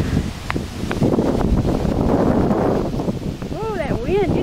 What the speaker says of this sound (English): You don't know what to think of all that wind, do you?